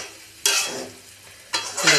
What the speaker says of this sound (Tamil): இப்போ நல்லா அப்படியே அந்த ஹீட்லேயே மிக்சிங் பண்ணும்போது